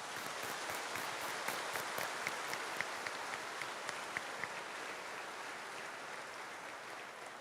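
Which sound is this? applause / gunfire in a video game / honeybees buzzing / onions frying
applause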